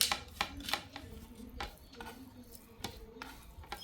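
Lemon pickle being mixed by hand in a village-style kitchen, heard as wet squelching, scraping and clinking against a pot in irregular bursts, close up and fairly quiet with no talking.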